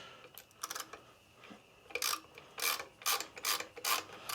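Tap cutting screw threads into brass on a Sabre 1438 mower, a series of short scraping, ratcheting bursts close up, each turn a brief rasp with pauses between.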